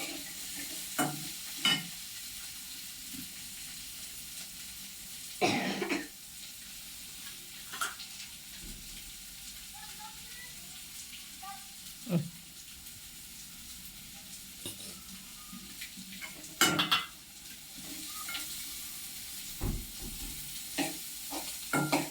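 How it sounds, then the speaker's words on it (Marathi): Food with turmeric sautéed in a pan in a home kitchen, a quiet continuous sizzle broken by a handful of sharp spoon scrapes and stirring clanks at irregular intervals. "आता मी याला परतून घेते"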